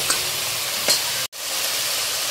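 Onion, tomato and chilli sauté in a pan with a steady close hiss, a couple of brief stirring scrapes, and a momentary cut to silence partway through.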